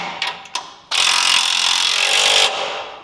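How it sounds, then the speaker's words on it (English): A 19 mm bolt on a FOX steering stabilizer of a GM heavy-duty truck gets tightened: a couple of sharp metallic clicks, then a loud, steady mechanical whirring burst of a power tool lasting about a second and a half, close up. "It's gonna tighten this one, tighten the bolt."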